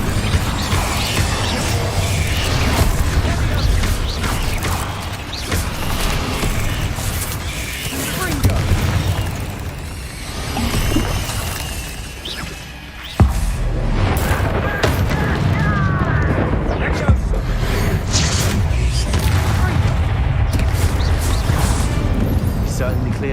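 A fire spell blast in a wizard video game: deep, booming bursts and crashes roll through a loud, dense mix of game effects, with voices talking beneath.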